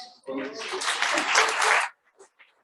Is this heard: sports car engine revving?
no